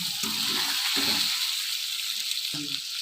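Prawns go into cooked masala in a hot pan. A constant loud sizzling hiss runs throughout, broken by a few low dull thumps and stirring bumps.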